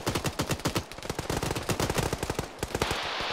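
Rapid automatic gunfire from the ARMA 3 military shooter, dense overlapping bursts with a steady, fast rhythm, loud and close, continuing for the whole stretch with no talk over it.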